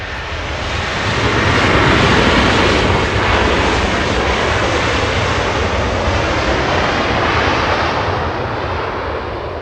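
A large airliner's engines roar steadily at Los Angeles International Airport, a loud broadband jet rumble that swells slightly and then holds strong for the whole stretch, with no voices over it.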